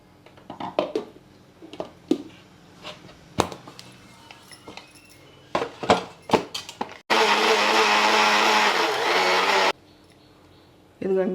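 An electric blender mixes eggs, oil and water, whirring loudly and steadily for about three seconds after a stretch of talking, tapping and clinking, then cutting off abruptly.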